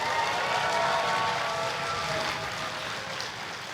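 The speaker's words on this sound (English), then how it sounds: "there will be a terrifyingly positive round of applause and stamping and whistling and hooting" Crowd applause from an audience at a tech conference lightning talk session, a dense steady roar of clapping mixed with stamping, whistles and hoots, sustained throughout and tapering slightly toward the end.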